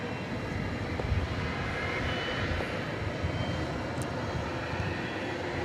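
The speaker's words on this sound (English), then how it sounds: "That is UPS Flight 793 going to home base in Louisville." A UPS Boeing 767 cargo jet, about three years old and heading for Louisville, rumbles at Dallas Fort Worth Airport at night, a steady moderate engine drone holding evenly with no speech.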